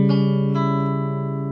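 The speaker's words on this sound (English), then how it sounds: "That's the sound of a diminished chord." A diminished chord on guitar, fretted on the middle four strings, rings out as a single sustained strum with a second lighter attack, then decays alone with a clear, slightly bright tone.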